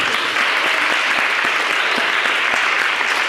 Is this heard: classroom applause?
yes